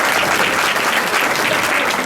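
Steady crowd applause at a community welcome event, thick and loud from start to finish, an even rush of many people clapping together without pause.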